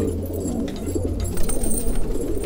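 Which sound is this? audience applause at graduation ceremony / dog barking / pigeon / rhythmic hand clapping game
pigeon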